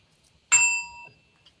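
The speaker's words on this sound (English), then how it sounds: "Hey, you got a bell. That's a bell." A single bright bell ding rings out clearly with a sustained, shimmering decay lasting about half a second, alone in an otherwise quiet space.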